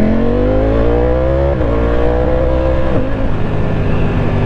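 A Ducati Panigale V4S Corse motorcycle rides at speed, its engine droning loud and close as the pitch climbs under acceleration, with two quick gear shifts briefly dropping the tone before it climbs again.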